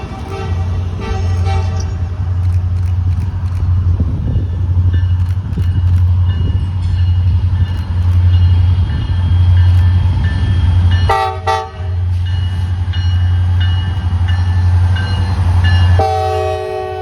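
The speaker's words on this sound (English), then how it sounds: "G-89 shows up one last time, heading to Norfolk Southern's Whitaker Yard in Austell with a long cut of intermodal cars." A long Norfolk Southern freight train hauling intermodal cars rumbles past close by, heading toward Whitaker Yard in Austell, with a steady low roar and wheel clatter throughout and horn blasts sounding near the end.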